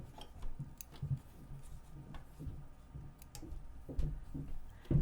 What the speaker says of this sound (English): And then you cut your threads